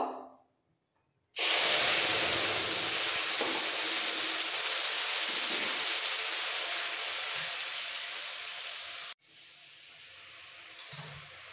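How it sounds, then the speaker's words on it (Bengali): Chana dal hitting hot ghee tempering with asafoetida bursts into a loud, close sizzle that starts abruptly after a brief silence, hisses steadily and slowly fades, then cuts off before a quieter sizzle resumes. "এবার অল্প করে এই ছোলার ডাল ফোড়ন দেব।"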